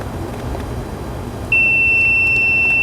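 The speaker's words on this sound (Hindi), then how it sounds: "ये देखो दोस्तों, बीप साउंड आ रहा है, देखो जैसे मैंने इनको आपस में टच किया हुआ" Clamp meter in continuity mode gives a steady, loud, high-pitched electronic beep as its test leads are touched together, starting abruptly halfway through and holding continuously over a faint background hiss.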